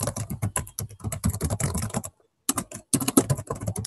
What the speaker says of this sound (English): Is that Thomas on the keyboard again?